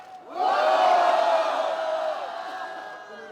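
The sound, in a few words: crowd shouting and cheering at rally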